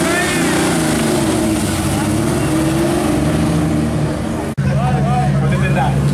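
A 1989 Toyota Corolla rally car pulls away at a gentlemen drivers' event, its engine droning steadily under a loud announcer's commentary, with a brief cut before the engine note rises again.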